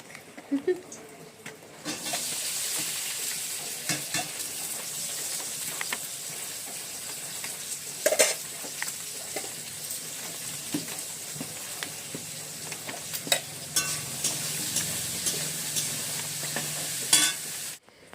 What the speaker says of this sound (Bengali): দেখো আমার সবজি কটা ভাজা হয়ে গেল এটা পাতাকপির আলু ছোটোগুলো